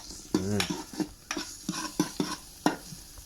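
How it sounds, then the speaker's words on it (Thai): Pork is stir-fried in a pan for Japanese black-broth shabu, with close, faint scrapes and stirring strokes of a utensil over a soft sizzle in an irregular rhythm, and no talk. "เราก็จะใส่หมู หมูไปนิดนึงนะครับผม ผัดได้สักเล็กน้อยแล้วนะครับผม"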